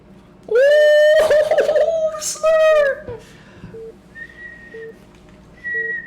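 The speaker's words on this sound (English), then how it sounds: "I whistle by blowing in." A person whistles sustained tones, repeatedly, with bursts of laughter in the middle of the passage, then soft, brief whistled notes follow in a quiet room.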